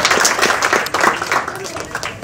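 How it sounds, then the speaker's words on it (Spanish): An audience at a children's graduation ceremony claps loudly, dense applause running throughout with a voice speaking over it. "Vamos a dar fuertes palmas por esta promoción y por todos ustedes"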